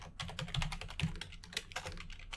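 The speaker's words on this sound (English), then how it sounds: "let us just type the MIME version" Quick bursts of keystrokes on a computer keyboard, irregular clicks in short clusters with brief pauses, close and fairly quiet, with no voice over them.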